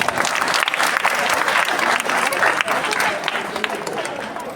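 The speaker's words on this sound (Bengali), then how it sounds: "সকলে একটু হাততালি দাও।" An audience claps in a dense, continuous burst at a school's annual function and prize distribution ceremony, held at Sheoraphuli Vivekananda High School, as guests are welcomed.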